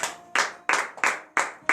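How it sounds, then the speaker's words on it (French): A worship congregation at a Friday morning prayer service in Comè, Benin claps in unison, five sharp, evenly spaced claps about a third of a second apart, loud and close with no talking. "je vous demande d'applaudir très fort"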